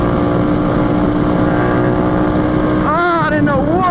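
A rebuilt Yamaha FZ-07 motorcycle engine drones steadily and loudly while riding, with wind buffeting, and a rider's excited voice breaks in near the end.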